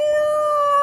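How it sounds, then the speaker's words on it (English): A wolf howl sound effect: one sustained, loud, slightly wavering tonal howl that fills the whole short moment on its own, with no talk over it. "We need a howl."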